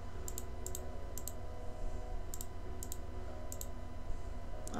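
A mouse clicking on colour palette spots in the Rust video game: about eight pairs of quick, crisp clicks at an uneven pace over a low, steady hum, with no speech.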